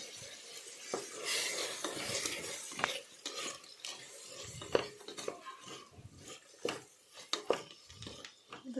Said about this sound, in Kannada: ಇದು ಚೆನ್ನಾಗಿ ಫ್ರೈ ಮಾಡ್ಕೊಳ್ಳೋಣ.